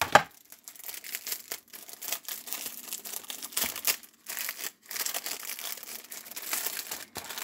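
Plastic packaging of a diamond painting kit crinkling and tearing as it is opened, a continuous close-up rustle with sharp crackles and brief pauses throughout.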